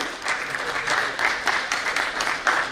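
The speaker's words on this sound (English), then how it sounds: "a round of applause for Kevu" An audience at a national management convention applauds, a dense burst of clapping that holds steady with small surges throughout, close and fairly loud, with no speech over it.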